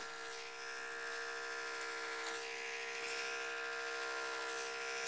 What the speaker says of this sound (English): let the clipper work